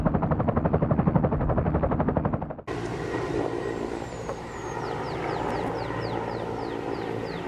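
A helicopter flying over the Lehigh Gap Wildlife Refuge, its rotor chopping in a fast, even, loud pulse for a few seconds before cutting abruptly to a steady engine drone with birds chirping faintly above it.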